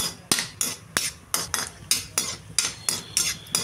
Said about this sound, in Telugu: ఇప్పుడు జీడిపప్పు వేసుకొని వేగనివ్వండి. కొంచెం ఈ జీడిపప్పు ఫ్రై అవ్వాలి.